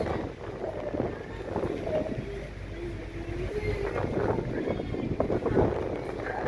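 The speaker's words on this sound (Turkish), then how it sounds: "Şimdi vapurun hareket etmesini bekliyoruz." A ferry idles at its pier in Üsküdar, Istanbul, before departing, giving a steady low engine rumble mixed with wind and water noise throughout, with faint distant voices.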